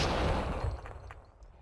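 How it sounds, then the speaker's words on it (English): AK rifle fire in the video game Max Payne 2 crackles in a loud, dense burst that fades into a decaying echoing tail. "Let's try the AK on him then."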